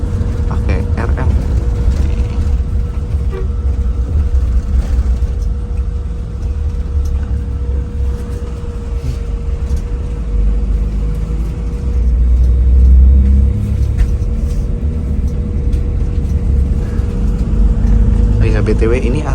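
Inside a Cilacap–Surabaya intercity bus on the move, a deep continuous engine rumble and road drone with a steady hum, swelling slightly in the middle as the bus works harder.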